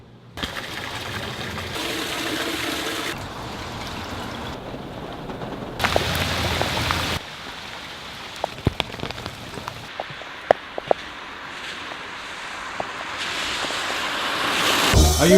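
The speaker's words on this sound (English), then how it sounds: "It's a lot of rain outside today." Heavy rain falls outdoors with water dripping down, a constant hiss that swells and shifts in intensity, broken by scattered sharp drips and taps near the listener.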